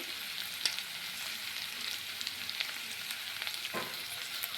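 Potatoes and ivy gourd with green chili frying in a pan give a steady, moderate sizzle, with a few soft stirring scrapes and clicks scattered through and no voices.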